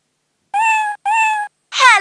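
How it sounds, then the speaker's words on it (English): Electronic cat meows from a 2004 VTech Soft Singing Phone toy, UK version: two clear, even meows of equal length in quick succession, then the start of a third, brighter wavering cry, loud and alone. "Hello, cat."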